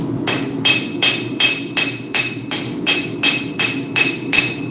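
Steady hammering on hot forged steel: a dozen crisp, ringing metal blows at a regular pace, loud and close above a constant low rumble, no voices.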